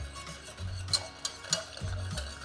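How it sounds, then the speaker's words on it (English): A buffalo wing sauce of hot sauce and black pepper being stirred in a bowl, with close, brisk scraping and rubbing strokes repeating in a quick rhythm. "And now we're just going to go ahead and mix everything in there. Stir that baby up."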